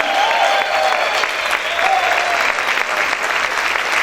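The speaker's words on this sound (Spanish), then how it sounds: "grite y aplaude fuerte al Rey de Gloria" A church congregation applauds loudly at a Sunday morning worship service, a dense, steady roar of clapping that holds for about four seconds, with faint voices mixed in.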